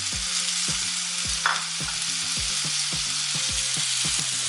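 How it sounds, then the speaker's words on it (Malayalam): Chopped tomatoes fry in a pan with a steady, close hiss, while a spoon stirs through them in regular low scraping knocks about twice a second. "നമുക്ക് ഈ ടൊമാറ്റോ കൂടെ ഒരു 2 ടൊമാറ്റോ അരിഞ്ഞതും കൂടെ ചേർത്ത് കൊടുക്കാം."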